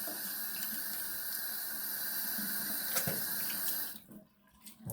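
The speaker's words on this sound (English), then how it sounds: "let me moisten my face" Tap water running steadily into a sink during a wet shave, a continuous close splashing hiss that cuts off near the end, followed by a few small drips.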